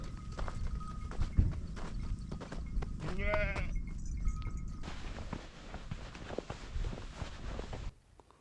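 A goat in a Pakistani desert village bleats among other farm animals, with hooves clopping and sheep-like bleats nearby over rustling outdoor background.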